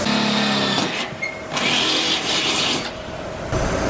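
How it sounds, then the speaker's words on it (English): A power drill enlarging a bolt hole to a quarter inch in the bumper and fender of a Honda Civic, whining steadily at close range with brief dips in pitch as the bit bites into the material. "I just drilled into the bumper and fender. I made the hole bigger to 1/4 inch so this bolt could fit through."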